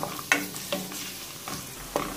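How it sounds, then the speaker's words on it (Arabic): Onion and garlic fry in olive oil, crackling and sizzling close by. A utensil scrapes and stirs in a few short bursts over the steady hiss. "مباشرة رأسا نحط زيت الزيتون والشي اللي بدنا نقليه بالزيت، إن كان بصل ثوم"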